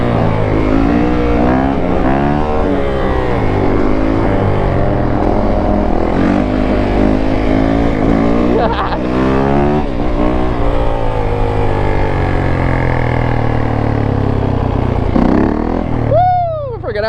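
A 2021 Honda dirt bike engine revs hard and repeatedly bounces off the rev limiter, loud and close with rising and falling pitch sweeps, with brief voices mixed in.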